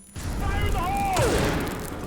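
Grenade blasts and gunfire from the video game Critical Ops: a sudden burst of booming, crackling shots followed by whistling, sweeping effects, with a voice speaking over the action.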